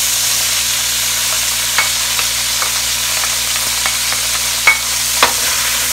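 Garlic sizzles steadily in a pan for a carbonara, with a few sharp scrapes and clicks of stirring standing out over the constant hiss; no talking.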